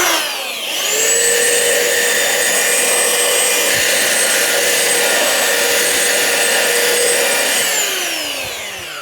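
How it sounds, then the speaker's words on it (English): A big belt sander fitted with coarse 40 grit runs on an oak baseboard, spinning up to a loud steady whine, grinding evenly for several seconds, then winding down, close and alone. "take the big belt sander with a fairly aggressive grit"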